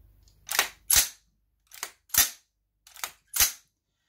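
Charging handle of an AR15/M4 in .223 Rem, set up as a straight-pull rifle, racked rearward by hand: six sharp metallic clacks in three close pairs, loud and near, with silence between.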